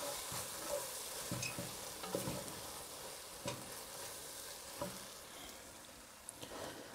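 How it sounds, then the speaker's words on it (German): Chipotle in adobo and onions sizzle softly in a Dutch oven, with a quiet, even hiss and repeated light scrapes from stirring. "Chipotle in Adobo werden jetzt angebraten, beziehungsweise zusammen mit den Zwiebeln erhitzt."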